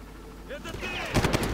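Far Cry gunfire ends the clip in a quick burst of loud shots, coming after softer in-game sounds and faint background activity.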